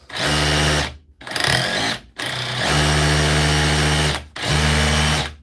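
Cordless power drill running in a repair shop, several loud whining bursts at steady speed separated by brief stops, close up with no talking.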